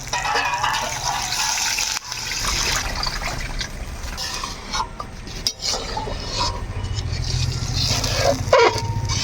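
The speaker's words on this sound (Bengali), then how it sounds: "আমরা এখন দিয়ে দিব হচ্ছে ঝোলের জন্য জল" Water poured into a simmering fish head curry of katla fish in spiced masala, a continuous splashing pour with gurgling and bubbling, fairly close and loud throughout.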